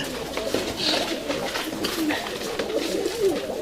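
Urfa Arab tumbler pigeons, a flock from one bloodline, coo in overlapping low throaty calls nearby, with a steady murmur of other birds around them.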